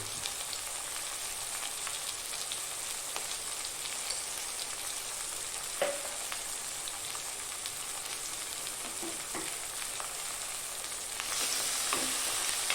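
Chilli powder stirs through oil in a pan with a quiet, steady crackling sizzle and occasional light scrapes and taps, without anyone speaking.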